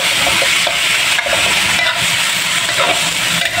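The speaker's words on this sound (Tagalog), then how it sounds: "mag-umpisa na tayo magluto guys ng karne" Meat cooking in a pan, a loud, dense and continuous close-up sizzle with faint stirring scrapes underneath.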